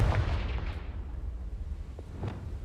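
A Confringo explosive spell in Hogwarts Legacy, heard as a deep rumbling blast that opens loud and slowly decays into a low, sustained roar, with a few faint crackles later on.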